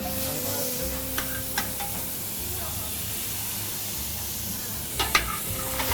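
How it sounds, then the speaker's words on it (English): Onion sautés quietly in olive oil in a hot pan with a steady frying hiss, punctuated by a few soft scrapes and stirring clicks. "I'm sautéing it with onion and olive oil, of course."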